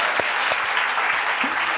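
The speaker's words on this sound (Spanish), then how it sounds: "yo en mis videos los hago aplaudir y aprendieron" A live audience claps in a dense, steady burst of applause, close and filling the whole short stretch without talk.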